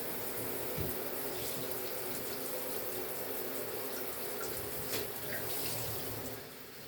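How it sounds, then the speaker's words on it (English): Steady broadband rush of water pouring from a tap into a bathtub as soap is rinsed out, continuous and fairly close with small splashy fluctuations, no talking. "Just rinsing out the tub of all the soap that I'm getting off yet."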